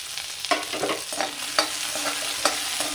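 Large-cut onions with whole leaves being sautéed for spicy tomato soup, a close sizzle punctuated by several sharp spatula scrapes and stirring knocks in an uneven rhythm, with no voices.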